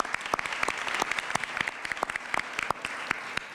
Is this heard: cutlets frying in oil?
no